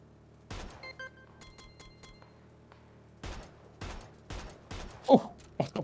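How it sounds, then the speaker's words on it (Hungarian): Gunshots in PUBG on the Miramar map, a few sharp scattered reports, some close and loud, others more distant, spread over a few seconds amid quiet game ambience and brief beeps. "Az mondjuk egy keményebb lövés volt."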